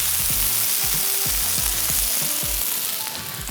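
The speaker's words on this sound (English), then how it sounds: "start off by seasoning your grill, placing the veggies down" Vegetables for fajitas sizzle loudly and steadily on a seasoned 40-inch tabletop grill, with scraping and stirring clatter throughout and no voices.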